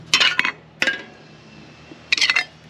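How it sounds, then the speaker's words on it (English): Light metal clinks and rattles in three quick clusters, close up, as an aluminium plate and a Trangia camping stove with a Metz burner knock together with quiet pauses between. "I put this aluminium plate on the top and I put the stove on top like that."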